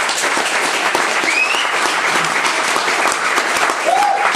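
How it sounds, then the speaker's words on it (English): Steady, dense applause from a large wedding crowd, loud and sustained throughout with no pauses, a few whistles rising above the clapping. "Man, I think Cameron deserves a round of applause for the work she's done on Mark."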